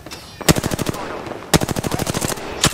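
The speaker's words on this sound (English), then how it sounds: "The enemies are shooting at me." Gunfire in a shooter video game, loud and close: three bursts of rapid automatic shots, separated by short pauses, with no talk over them.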